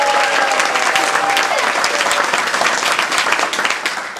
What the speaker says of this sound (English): based on the applause, so far that's the highest one